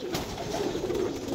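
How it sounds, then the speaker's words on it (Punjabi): A Sialkoti pigeon coos steadily and close by, its low murmuring calls running through the whole short stretch without pause, with no voices over it. "ਇਹ ਸਿਆਲਕੋਟੀ ਕਬੂਤਰ ਹੈ ਮਾਸ਼ਾਅੱਲਾ ਜੀ"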